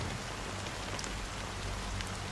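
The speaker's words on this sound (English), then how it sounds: "But it's still raining." Steady rain falls in the video game The Cat Lady, a dense, even hiss of drops on surfaces continuing without pause.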